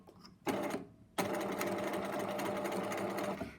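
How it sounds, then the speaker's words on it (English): A sewing machine stitches ribbon binding closed on a spaghetti strap: a short whirring burst, a pause, then a longer steady mechanical run, heard close up. "I'm going to sew this closed"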